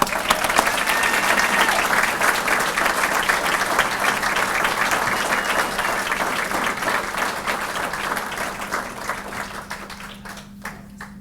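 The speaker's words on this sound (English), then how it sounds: "So let's put our hands together for her." An audience at a military achievement awards ceremony applauds the Marine of the Quarter with a dense, sustained burst of clapping that holds steady for about ten seconds, then thins out and stops.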